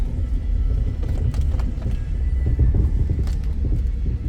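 A 2003 Chevy Silverado 2500 pickup truck pulling away, its engine a steady low rumble heard from inside the cab, moderately loud with a few light knocks and rattles.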